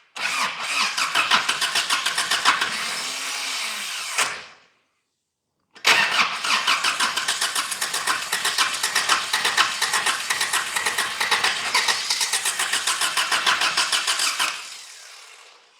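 A Daihatsu Rocky's starter cranks the engine in two long continuous bursts separated by a short pause, a steady rapid loud whirring chug close up, with no voices.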